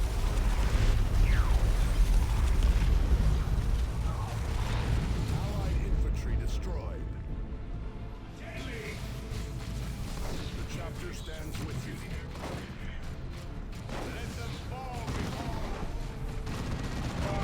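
Orbital bombardment explosions in Dawn of War II: Retribution arrive as a dense barrage of booming blasts and crackling gunfire, loud at first and then easing, with a commentator talking over the battle.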